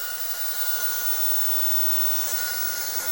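A hair dryer set to medium speed and high heat blows steadily and loudly while hair is blow-dried and straightened at the roots, a constant airy whir with no talk.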